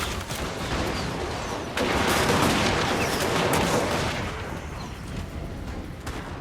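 Crackling musket-style volleys from Dwarf Thunderers in a Total War: Warhammer battle against Orcs, a dense, continuous rattle of shots with a few sharper cracks, swelling in the middle and fading toward the end.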